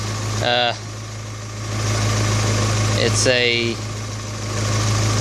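A 1988 Suzuki Samurai fitted with a 1.6 16-valve engine from a 1998 Tracker idles steadily with a low mid-pitched hum, while someone talks over it in two short bursts.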